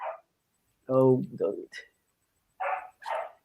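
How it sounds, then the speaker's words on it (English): A pet dog barks indoors in a few short, close bursts, with brief pauses between them, while a person speaks briefly over it. "Oh, my dog just started barking."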